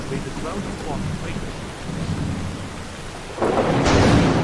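Rain and a rolling thunderstorm in Skyrim around the city of Solitude: steady loud rainfall throughout, with a heavy rumble of thunder swelling near the end.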